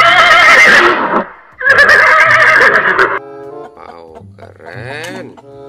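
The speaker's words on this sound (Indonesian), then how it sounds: "Ini ada kuda." Horse neighing in two long loud whinnies, followed by softer snorting and nickering sounds; the calls come from a children's animal-sounds collection of farm animals.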